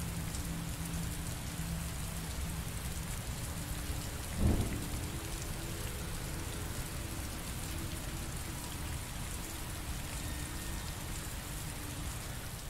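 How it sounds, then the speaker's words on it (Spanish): Steady heavy rain in the video game Heavy Rain, with one brief low thunder rumble around the fifth second, all of it fairly faint and with no voices. "La lluvia es fuerte, claro."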